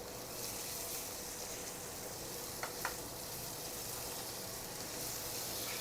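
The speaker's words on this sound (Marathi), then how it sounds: "आता मी याच्यामध्ये घालते गरम मसाला आणि हा पण छान मिक्स करून घेऊया." Garam masala being stirred into a yam (suran) kebab mixture in a hot pan, under a steady loud sizzle with a couple of faint scrapes from the spoon, close and without talk.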